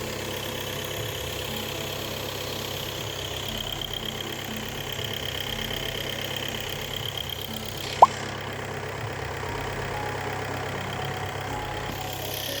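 A VW 2.0 TDI EA288 diesel engine idles at about 1000 RPM with a steady, even hum that holds throughout, broken once by a brief sharp click.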